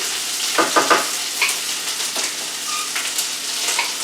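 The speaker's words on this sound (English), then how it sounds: "I'll use my wooden spatula to put the onions in" Onions sizzle and fry in a warm pan, stirred with a wooden spatula, a close, steady crackling hiss with a few louder scraping stirs near the start.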